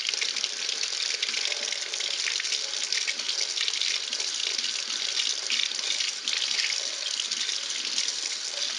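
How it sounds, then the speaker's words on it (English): Tap water runs into a sink while makeup brushes are rinsed, a steady, close hissing splash that continues evenly and uninterrupted throughout. "Rinse them out very well."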